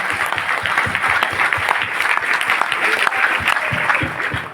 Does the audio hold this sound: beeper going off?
no